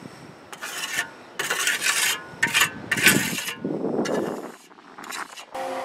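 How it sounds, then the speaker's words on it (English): A trowel loads and spreads fiber-reinforced cement onto the curved wall of a ferrocement house, making close, rough rasping scrapes in repeated bursts with short pauses between strokes. "So I'm doing the trowel loading technique here."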